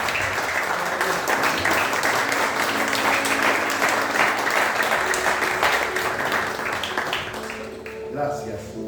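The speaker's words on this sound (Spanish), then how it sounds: "Un cálido aplauso en el Señor" Warm applause from a congregation fills a Pentecostal church service, a dense, steady wash of many hands clapping that holds for several seconds before tapering slightly at the end.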